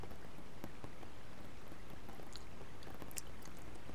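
Steady rain patters down in a continuous soft wash, with scattered brighter drips and ticks landing close by on nearby surfaces.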